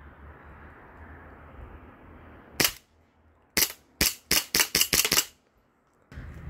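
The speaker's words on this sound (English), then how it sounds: "I'm gonna be shooting it with the 400 FPS 1911." Sharp pellet shots from a 400 FPS 1911 pellet pistol striking a mini fridge: one crack, a pause, then a rapid string of six or seven loud cracks in quick succession, with quiet room tone between.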